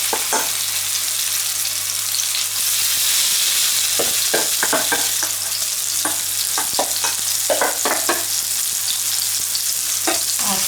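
Chinese meatballs fry in a pan with a steady, close hiss, broken by a run of sharp spits and crackles as they cook, with no voices.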